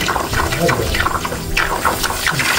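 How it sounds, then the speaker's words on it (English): Water runs steadily from an opened basement faucet during a DIY pressure tank replacement, giving a continuous splashing rush throughout, with a voice talking over it. "open up the faucet here"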